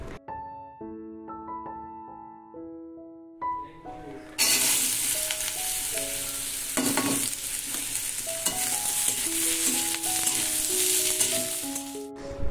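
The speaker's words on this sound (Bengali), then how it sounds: "এদিকে কিছুটা আলু ভেজে নিচ্ছি" Potatoes frying in a pan in a home kitchen, a loud steady sizzle that bursts in partway through after quieter stirring and clinks, then crackles on continuously.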